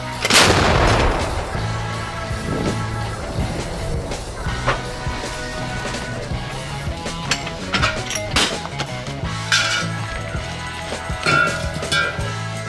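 One loud artillery blast booms at the outset, then metallic clanks and scattered knocks follow amid an echoing outdoor rumble.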